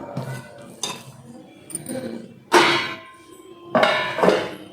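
A lid is set down over a bowl of oiled naan dough, giving a few close knocks and clinks of metal and ceramic, with two louder scraping clatters near the end and no talk.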